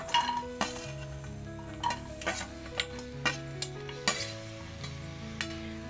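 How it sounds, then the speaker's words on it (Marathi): Dried bombil fish pieces roast in a hot kadhai with faint crackling and a series of sharp knocks and scrapes from a stirring spoon, quiet and close with no talking. "कढई गरम झालेली आहे, आपण बोंबील टाकून घेऊया"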